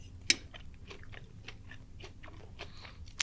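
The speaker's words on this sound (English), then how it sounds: "A bit of crunch there you might be able to hear from the breadcrumbs on the outside." Crunchy bites into a breadcrumb-coated scotch egg, a few sharp crisp crackles close to the mic followed by quieter chewing, with no talking.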